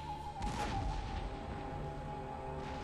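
A heavy cannon blast in the video game Empire: Total War booms out, followed by a lingering rumble and a steady tonal hum underneath.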